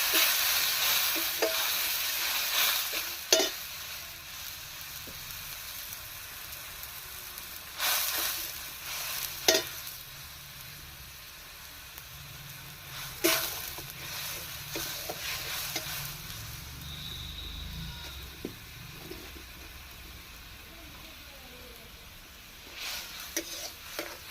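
Ground spices with coriander powder and a splash of water sizzle and fry in a pan, a steady hiss broken by intermittent scraping stirs and clinks, with no talking.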